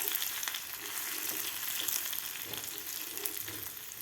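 Tadka of crushed garlic and red chili powder sizzling in hot oil, a soft steady hiss with light stirring scrapes, fairly quiet and continuous with no voices.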